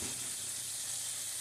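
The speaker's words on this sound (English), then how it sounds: "And get your pieces of chuck tender sizzling." Pieces of chuck tender beef sizzle in a hot pan for stroganoff, giving a steady, close hiss with no talking.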